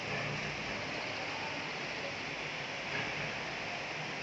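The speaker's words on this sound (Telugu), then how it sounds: "వర్షం ప్రారంభమైందండి." Rain falls steadily outside a home balcony garden, an even, dense hiss of rainfall heard alone without pauses.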